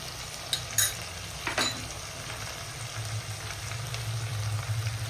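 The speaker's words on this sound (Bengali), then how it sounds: "এবার মশলাটা এবার আমি খুব সুন্দর করে কিন্তু কষিয়ে নেবো" Spice paste with turmeric and salt sautéed in a pan for katla fish kalia gives a soft, steady sizzle with a few sharp scraping clinks of a spoon early on, close by and moderately quiet.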